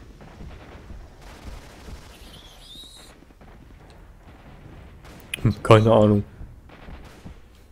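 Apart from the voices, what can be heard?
gunshots in video game S.T.A.L.K.E.R. Shadow of Chernobyl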